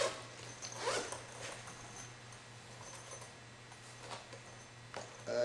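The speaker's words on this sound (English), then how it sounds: "easy open zippers" Easy-open zippers on a soft carrying belt case for a vector impedance analyzer being pulled, with a couple of quick rasping zips amid quiet room tone, no talking.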